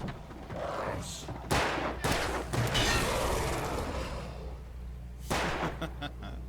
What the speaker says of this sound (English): Now he's just firing at nothing.